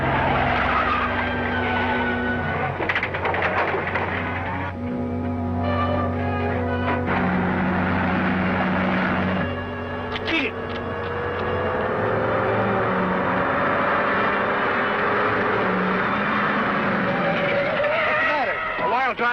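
A car skids with squealing tires as it is driven off the road, a loud continuous rush of engine and tire noise with voices speaking over it throughout.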